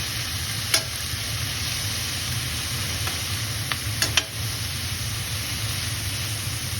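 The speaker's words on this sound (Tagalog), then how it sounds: "at saka konting tuyo. Tansyado lang para wag umalat. Haluin ulit natin." Vegetables and dried fish sizzling in a frying pan with a steady close hiss, while a utensil stirs and gives a few light clicks against the pan.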